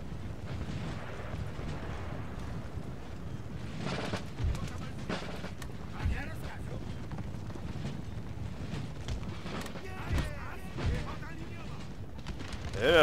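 Musket volleys and artillery blasts crack and boom through a battle in Empire: Total War, with repeated bursts over a steady rumbling din while someone talks over the action.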